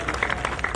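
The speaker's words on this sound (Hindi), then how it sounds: "जोरदार तालियों से आमंत्रित करें ममता शर्मा को शारदा वंदना दें।" Audience applause at a Hindi poetry gathering (kavi sammelan) in Chittorgarh, a brief burst of many hands clapping in quick irregular patter, moderately loud.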